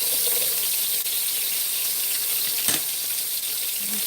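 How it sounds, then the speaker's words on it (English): Blood pudding browning in a pan gives a soft, steady sizzle and crackle close by, with a couple of small knocks and no talking. "We've been browning a long time."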